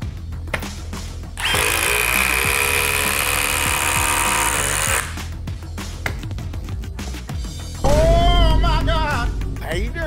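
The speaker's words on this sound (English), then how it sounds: "let's put the forged battery on the fuel impact and see if we have any different a result" Milwaukee M18 Fuel impact driver running on a Forge battery, loud close-up bursts of high whining motor with rattling hammering, one about three seconds long, then a shorter burst winding up and down, separated by handling noise.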